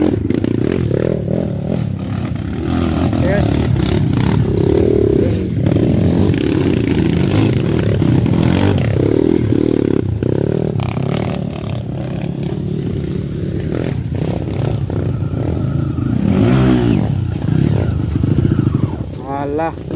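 Trail motorcycles ride and rev along a dirt test track at Tapak Kuda in Kuok, Kampar, with a steady loud engine drone, scraping clatter and throttle surges throughout, while riders talk over it.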